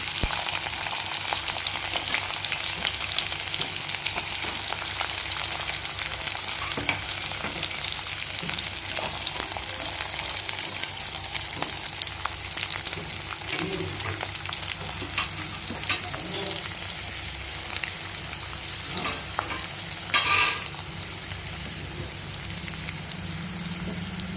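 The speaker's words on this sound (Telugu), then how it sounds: "ఇవి మంచిగా వేగనిద్దాం." Dried shrimp and onions frying in hot oil with cumin produce a long, steady crackling sizzle, close up, with occasional clinks and scrapes of a stirring spoon.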